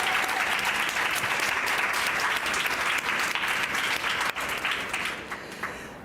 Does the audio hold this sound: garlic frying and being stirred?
no